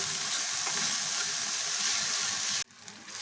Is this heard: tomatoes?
yes